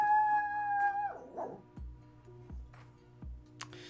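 A pet dog lets out a long, close, wavering howl that slides down into a whimper, followed by a few soft low thumps in a quiet room.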